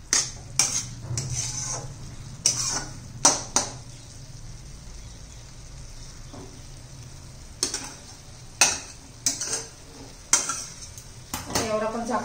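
Beetroot sabzi with fresh coriander stirred in a pan at close range, with repeated metal clatters of a spoon against the pan in irregular bursts over a low sizzle, and a quiet stretch in the middle.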